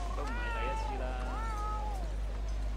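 A cat meows in long, drawn-out, wavering cries, close and clear over a steady low hum, with a second shorter meow following.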